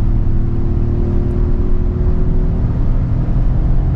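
A 2023 Peugeot 208 Style with a 1.0 Firefly engine accelerates uphill, heard from inside as a loud, steady low engine drone and cabin rumble with no voices.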